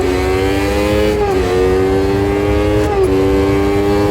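A 1988 Formula 1 racing engine in Automobilista 2 screams at high revs, loud and close, with two brief dips in pitch as gears change before it climbs again.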